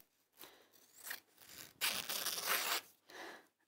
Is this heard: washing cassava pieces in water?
no